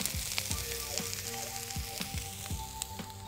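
Lamb sausages and garlic sizzle on a plancha with a steady crackling fry, punctuated by regular scraping strokes of a spatula about every half second, close and alone.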